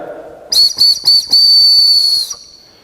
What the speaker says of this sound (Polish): takiego ptaszka, który działa oczywiście na podobnej zasadzie jak gwizdek